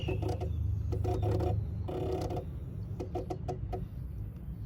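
The electronic throttle of a Yamaha R15 motorcycle is twisted open and closed, giving small mechanical whirs and clicks in short bursts over a low steady hum, with no talking.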